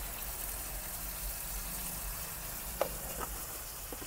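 Chicken with tomato and salt frying in a pan, truck driver style chicken curry cooking, a soft, quiet sizzle with a low background hum and a couple of brief clinks, no talk.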